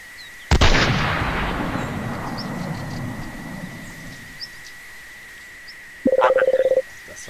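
Gunfire from a second weapon in the zombie shooter game Zombie Ops 3D: one loud, sharp blast with a long rumbling decay, then a quick rapid burst of shots near the end.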